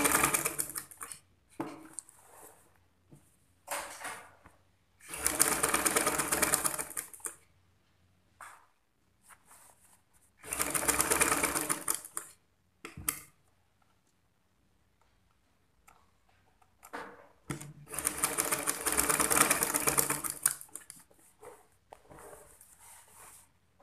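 A sewing machine stitching the hard-fabric edge of a back-pleated pencil skirt runs in three loud bursts of rapid ticking, with shorter stops and starts between them and quiet gaps, no talking.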